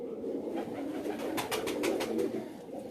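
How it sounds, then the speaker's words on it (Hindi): An Egyptian pigeon on a rooftop loft coos in soft, low, throaty murmurs that repeat steadily, with a brief burst of flapping or rustling partway through. No voices are heard. "ये जी जुवेद भाई का मिस्र कबूतर है"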